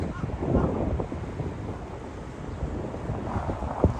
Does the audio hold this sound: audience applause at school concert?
no